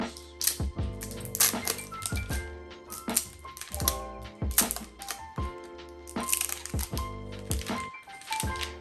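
Plastic wrap being peeled off a Nokia X10 5G phone box, a close series of crinkly crackles and sharp tearing bursts with short pauses between them.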